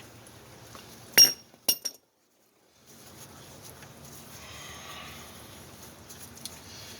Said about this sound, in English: I'm just taking the nuts off